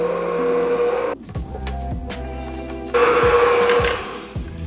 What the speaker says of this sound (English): I'm just going to whisk that together until it's nice,